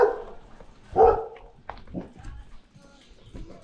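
A dog gives a couple of sharp barks close by, followed by quieter yips and whimpers amid brief voices.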